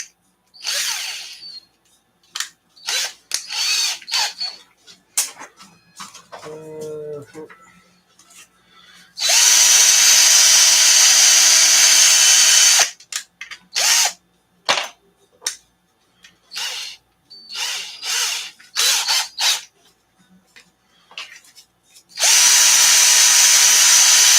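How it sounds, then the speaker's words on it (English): A power drill whirs in short, repeated bursts while working on RC car parts, then runs steadily for several seconds and again at the end, with some talk between the runs. "Good time to have the drill."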